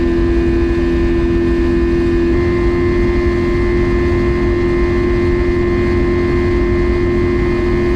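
A Glastron speedboat engine runs at full throttle during a top-speed run on the water, giving a loud, steady, droning roar with a constant pitch and no breaks throughout.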